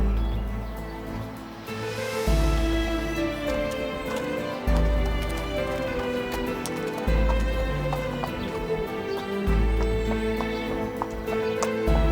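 Horse hooves clip-clop at a steady walking rhythm near a stable, layered under a sustained musical score that stays prominent throughout.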